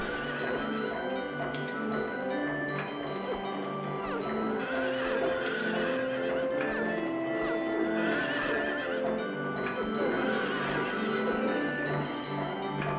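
Horses neigh and whinny repeatedly during a boss fight at Lakeside Amusement Park in Silent Hill 3. The calls blend into a dense, continuous wash of game sound with clattering and music.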